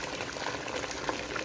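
A pot of water with lamb for Bukhari rice rolling at a full boil, giving a dense, steady bubbling hiss close to the pot, with no talk over it.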